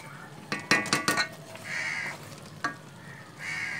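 Roasted semolina tipped into a hot pan for desi ghee sooji halwa and stirred, giving a cluster of close sizzling bursts and scraping clatters, then a steadier hiss with another spoon knock.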